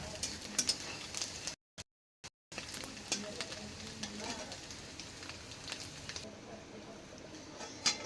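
Coconut pieces frying in hot oil beside boiling chana dal, a steady crackling sizzle with stirring clicks throughout, briefly cut by two short silent gaps, with some faint talk in the background.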